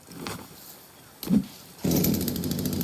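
A saw in the survival video game The Forest: a short mechanical clunk, then a steady, buzzing motor drone that starts up abruptly and runs to the end, loud and alone over a quiet background.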